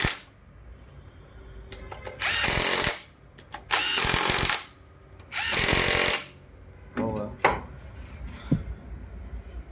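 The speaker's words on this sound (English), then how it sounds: "So you guys also use this impact cordless." A cordless impact wrench tightens bolts on a Kirloskar 4R1040TA engine during assembly, firing in three loud, sustained rattling bursts of about a second each, followed by shorter clicks and brief zips, close up.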